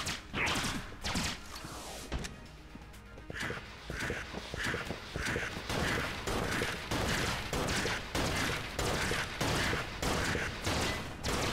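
Rapid gunfire from the video game Enter the Gungeon, a dense stream of sharp repeated shots with thuds and impacts, loud and continuous across the whole stretch with no talking.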